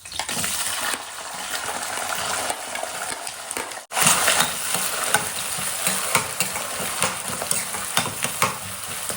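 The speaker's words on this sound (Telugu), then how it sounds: "ఇప్పుడు ఇందులోకి మనం కట్ చేసి పెట్టుకున్న ఆనియన్స్ వేసుకోవాలి" Chopped onions drop into a pan of frying cumin seeds for a bitter gourd curry, giving a loud, steady sizzle with stirring scrapes and a brief break as they go in.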